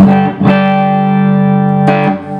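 A sustained PRS electric guitar chord rings out clean and bright, with a fresh strum near the start and another around two seconds, no voices.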